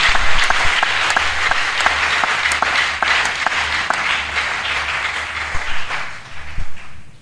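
A church congregation applauds together, sustained close clapping with a steady dense rhythm that thins out and fades toward the end.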